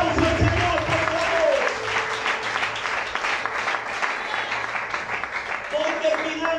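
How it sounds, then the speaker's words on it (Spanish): A church congregation claps during a Spanish-language evangelical service, sustained applause with voices and musical tones mixed in underneath. "Denle un fuerte aplauso al Señor, por favor."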